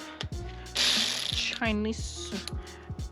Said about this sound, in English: ratcheting wrench from TikTok